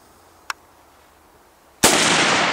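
An AK-47 rifle fired outdoors at a jug: a faint click, then one loud, sharp close-range shot with a long, noisy decay.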